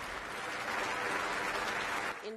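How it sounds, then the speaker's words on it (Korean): Applause fills the European Parliament chamber as a widow enters the plenary session. A dense, even wash of clapping holds steady for about two seconds, then cuts off. "나발리의 부인인 유리아 나발라야가 박수를 받으며 유럽의회 회의장에 입장합니다"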